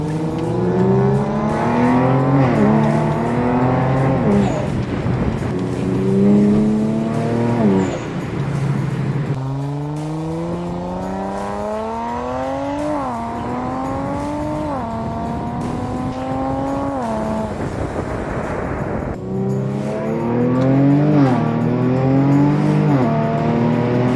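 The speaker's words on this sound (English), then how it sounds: "I have not had this car on sport mode for a long time, so hearing the exhaust feels good." Kia Stinger with a stage 1 JB4 tune, exhaust in sport mode, revving hard through repeated rising and falling sweeps, loud and close, with brief pauses between pulls.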